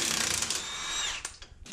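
An impact wrench whirs and rattles on a large 36 mm nut during an Acura RD1 Honda CR-V teardown, a short burst that winds down with ratcheting clicks, fairly quiet overall.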